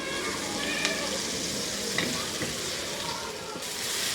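Cauliflower florets fry with a little salt in a pan over a medium-high flame, giving a continuous, close, even sizzle with faint stirring clicks and no talking.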